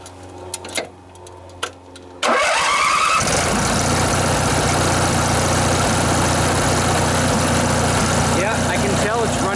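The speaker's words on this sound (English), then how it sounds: "Yeah, I can tell it's running on both cylinders now. It sounds a lot smoother." A Briggs and Stratton twin-cylinder riding lawnmower engine cranks and fires after a few clicks and knocks, then runs loud and steady at a smooth, even idle close by.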